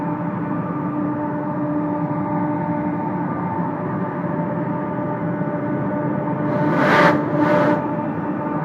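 A Sydney train pulls away from the Olympic Park platform with a steady low rumble and a droning motor hum, and near the end two brief bursts of hissing air break through.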